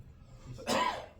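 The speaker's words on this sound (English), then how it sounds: "If I have a coughing fit, I apologize." A single short, breathy cough close by, brief and moderately loud after a quiet moment.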